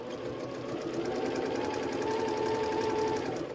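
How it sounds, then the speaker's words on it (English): A home sewing machine runs steadily, stitching a quilt block in one continuous, close, even whir with no pauses and no talking. "I'm going to sew right on that line"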